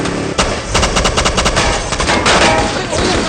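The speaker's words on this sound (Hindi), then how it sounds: "गोलियां चलाओ।" Sustained machine gun fire in a battle scene from the film Act of Valor, loud and continuous with rapid overlapping bursts and a few sharper shots over about three seconds.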